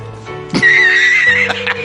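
A single horse neighs loudly and close up as a sound effect: one drawn-out, wavering whinny lasting over a second, alone with no speech.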